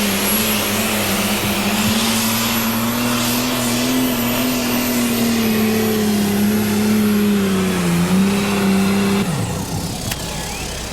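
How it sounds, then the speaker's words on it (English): Pro stock pulling tractor roaring at full power during a 1997 pull at Bowling Green, Ohio, a loud steady engine drone with a sustained tone that dips briefly, then cuts off near the end. "he could be forcing a pull-off with the Night Moves tractor of Carl Smith"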